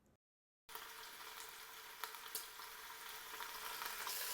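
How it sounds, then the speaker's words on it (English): Oxtail pieces sear in avocado oil in an Instant Pot on its high sear setting, a steady close sizzle that starts abruptly after a brief silence and swells louder, with a few crackling pops. "add some avocado oil, and then when it's ready, go ahead and add the oxtail"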